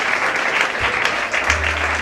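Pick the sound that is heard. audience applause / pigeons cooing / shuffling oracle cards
audience applause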